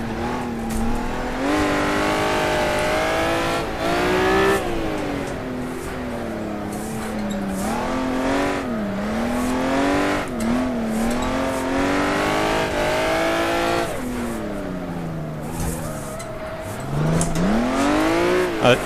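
A Honda NSX drives hard on a kart circuit, its engine revving up and down continuously through downshifts, loud and close, with rising and falling engine pitch and no talk.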